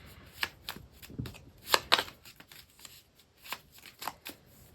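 Handmade cards are shuffled close up in a quiet room, with several short riffling and slapping bursts spread irregularly across the moment.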